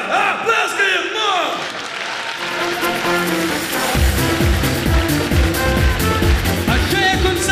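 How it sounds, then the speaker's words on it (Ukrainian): An audience claps in a concert hall during a conservatory entrance exam. The applause is dense and steady, with crowd voices and tonal, music-like sounds over it throughout. "Давай, а, плескаємо, но!"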